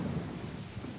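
A thunder effect plays from a Lowrey Genius organ, a steady, deep rolling rumble lasting about a second at low volume, with no speech.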